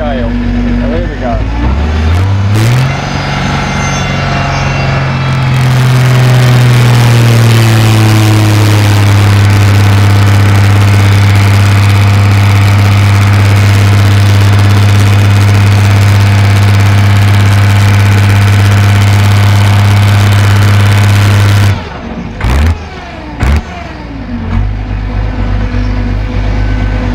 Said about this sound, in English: So I'll rev the engine flat out and then wind the handle up